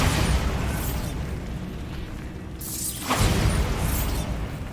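Bombarda blasting spell from the game Hogwarts Legacy, a couple of rumbling explosive bursts with crackling debris and mechanical clatter, loud and close.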